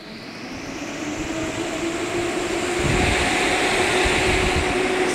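A heat recovery ventilator fan at maximum speed, 450 cubic metres per hour, a loud, steady roar that swells slightly louder partway through, a broad rushing whoosh with a faint tonal hum underneath.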